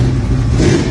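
A Ford Mustang fastback with a built 351 engine revs loud and close in a short, throaty burst, with no talk over it.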